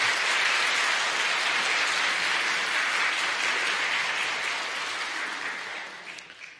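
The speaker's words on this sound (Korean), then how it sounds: "우리 1년 동안 예배를 위해서 헌신해 주신 우리 이부성가대 여러분들 박수 한번 보내주시죠" Congregation applause in a church during a year-end Sunday worship service for the choir, a dense steady wash of clapping that holds strong, then thins and fades toward the end.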